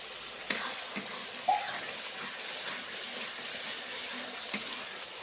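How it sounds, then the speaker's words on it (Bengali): Water is poured into a spice paste frying for doi katla, giving a steady close hiss and gurgle with a few light knocks of a vessel against the pan, no speech. "অল্প করে জল দেবো।"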